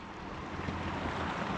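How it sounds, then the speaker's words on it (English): Big waves on the California Delta hit a kayak during a cold front, making a steady loud wash of water and wind noise with no distinct individual hits and no talking. "Point your kayak towards the big waves and ride it."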